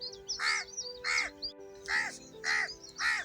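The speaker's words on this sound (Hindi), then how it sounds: "अगले दिन सुबह फिर वही कौवा आकर काव काव करने लगता है।" A crow caws repeatedly in the morning, five harsh calls in a steady rhythm, close and clear over a faint background hum.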